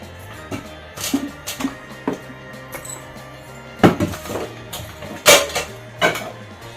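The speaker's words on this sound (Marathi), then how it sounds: "आता आपण वडापावसाठी लागणारे मसाला भाजून घेणार आहोत." Metal spoon clinks and scrapes against a pan while vada pav masala is dry-roasted, with scattered sharp knocks and clatters over a steady low kitchen hum, no talking.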